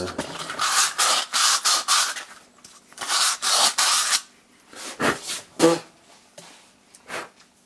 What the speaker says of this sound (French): Je passe un petit coup de toile dedans